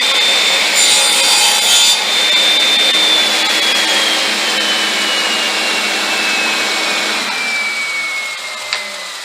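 A radial arm saw cuts wood for a valet tray, making a loud, continuous close-up cutting roar with a high whine that slowly drops in pitch before the cut ends, with no talk.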